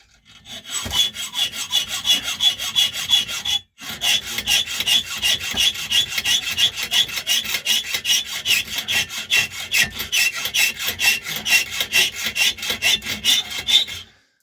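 A nail clamped in a vise is sawn through with a hand saw, one of two nails being made into a lever padlock tensioner with basic tools. The strokes are loud, steady and rhythmic, with one brief pause before the cutting resumes.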